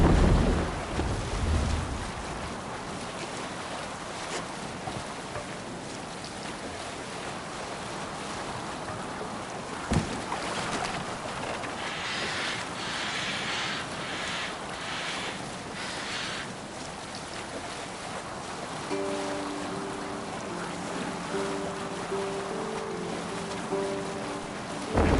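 A Viking longship sailing out in Assassin's Creed Valhalla on PS4: a continuous rush of wind and water with a low stormy rumble, occasional creaks and thumps, and a faint tonal hum later on, no speech.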